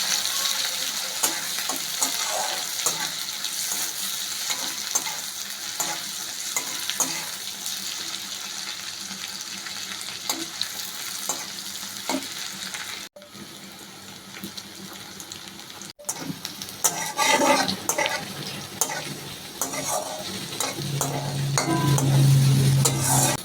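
Garlic and green chillies fry in a pan with a steady, dense sizzle and occasional stirring scrapes, close and continuous, with a brief break before the hiss resumes stronger.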